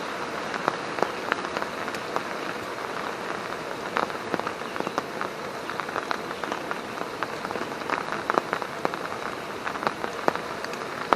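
Heavy rain falls on a solo wild camp, a dense, steady patter of drops hitting surfaces with scattered louder splats throughout and no voices.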